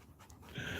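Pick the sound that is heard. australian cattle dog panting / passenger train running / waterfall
australian cattle dog panting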